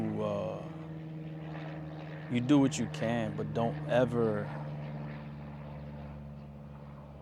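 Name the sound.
airplane passing overhead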